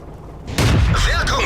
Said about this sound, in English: Let's put the cannon to use one last time.